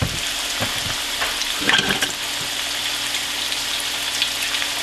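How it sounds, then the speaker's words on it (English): Coated okra fries in a pan of hot oil, giving a continuous close hiss and crackle, with a brief burst of louder spattering as the pieces are moved around. "Doesn't take long to cook okra, 2 to 3 minutes per side."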